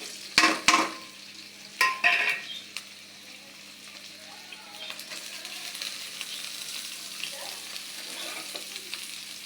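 Beans and cauliflower fry with chopped onion in oil, a few sharp clattering knocks of utensils on the pan first, then a soft steady sizzle underneath.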